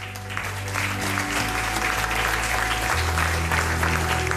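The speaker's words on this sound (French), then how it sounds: "Pouvez-vous tous applaudir pour accueillir sur scène le directeur général de Business Europe, Markus Bayer." An audience at the European Leadership Awards ceremony applauds steadily to welcome the director general of Business Europe onto the stage, a dense, sustained clapping over a low musical drone that holds for the whole stretch.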